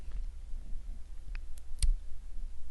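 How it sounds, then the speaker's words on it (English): Mouse clicks at a computer while working in Excel: a few small, sharp clicks, the clearest one near the end, faint and close over a quiet low hum. "We're going to click Save As."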